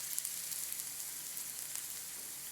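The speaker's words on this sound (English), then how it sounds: "Then put in your ginger and garlic. Fry these for 30 seconds till they are fragrant." Ginger and garlic frying in a pan, a steady bright sizzle with fine crackling pops throughout, close and continuous with no talk.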